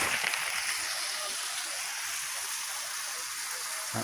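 A flash flood torrent rushes through a village in Wusab, Dhamar, Yemen, a broad, steady roar of churning water heard continuously at moderate level with no voices.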